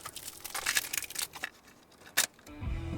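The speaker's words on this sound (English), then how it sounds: "That's the sound of a brand new cassette tape being unwrapped and put into a cassette deck" A brand-new cassette tape has its plastic wrapping crinkled and torn off in quick, close rustles, then after a short pause it clunks into a cassette deck, followed by a low mechanical whir.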